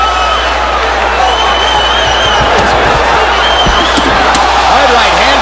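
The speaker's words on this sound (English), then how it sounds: "The crowd is very excited" Boxing arena crowd in a Glen Johnson versus Antonio Tarver fight roars and cheers loudly and continuously, with whoops rising over the din and a commentator talking.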